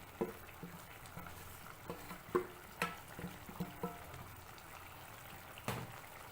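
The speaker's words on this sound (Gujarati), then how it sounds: "હવે આપણે તેની અંદર ફ્રાય કરેલા રીંગણા મસાલા સાથે જ ઉમેરી દઈશું" Fried brinjal is added to masala sizzling in a pot. Soft frying hiss runs under scattered clunks and stirring knocks, all faint and close.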